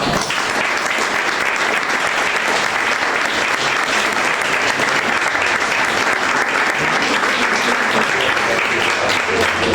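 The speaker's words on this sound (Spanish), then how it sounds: "un aplauso para todos" Audience applause at a members' day event, loud, dense clapping sustained without a break for nearly ten seconds.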